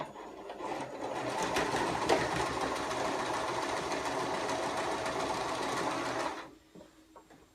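A sewing machine runs steadily at close range for about six seconds, stitching a 2.5-length line along the hem of a girl's dress, then stops abruptly into near silence.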